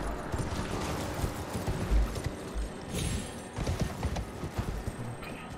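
Horse hooves galloping in Elden Ring, a steady run of close clip-clop beats mixed with game ambience, continuous across the passage.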